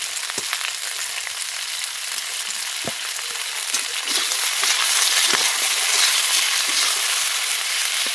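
Continuous loud sizzling of vegetables frying in oil in a pan, with occasional soft knocks of stirring, growing slightly more intense midway.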